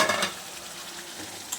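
Chopped tomatoes with salt are sautéed in a kadai for a potato rezala, giving a soft, even sizzle with light stirring after a brief louder start.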